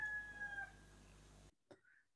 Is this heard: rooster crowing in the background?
yes